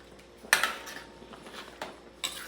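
A spoon stirs sinigang na maya maya soup in a pot, giving quiet clinks and taps. There are three distinct metallic knocks spaced across a faint, low background.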